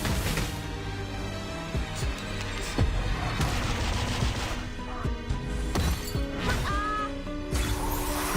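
Gunfire barrage skill in the Reverse:1999 game, a dense run of sharp shots and crashing impacts over layered music and effects, loud and continuous with no clear gaps.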